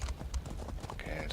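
Horse hooves clip-clopping in The Elder Scrolls Online, a short run of quick, fairly quiet hoofbeats over faint game ambience.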